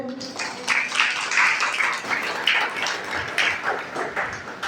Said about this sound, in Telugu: ఈ బైబిల్ మీ ఒళ్ళోనే పెట్టుకుని చప్పట్లు కొట్టండి.